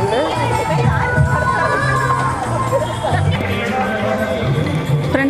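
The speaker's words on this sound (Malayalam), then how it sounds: "അവിടെ മോരൊക്കെ കൊടുത്തു തുടങ്ങിയാണ് ഈ ആൾക്കൂട്ടം കാണുന്നത്." Dense festival crowd at Attukal Pongala, a loud continuous mass of voices with children shouting and scattered cheers, steady and close throughout.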